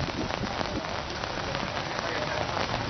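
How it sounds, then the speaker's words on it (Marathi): Heavy monsoon-style downpour in Pune, a dense and steady hiss of rain pelting hard surfaces that holds at an even, fairly loud level throughout with no pauses. "पुण्यामध्ये आपण बघतोय की गेले जवळपास अर्ध्या तासापासून मुसळधार पाऊस सुरू आहे"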